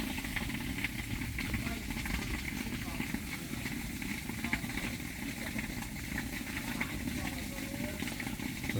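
Steady, rushing water flows into a rice field without a break, a constant hiss with a low rumble underneath.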